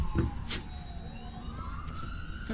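A police siren wails in the distance, its pitch sweeping slowly up and down, faint beneath wind and low outdoor rumble.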